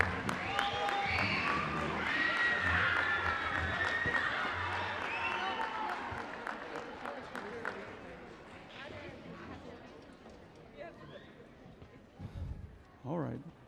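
An audience at a middle school concert claps in a dense wash of applause that is loudest at the start and slowly fades, with voices over it and a few thumps near the end.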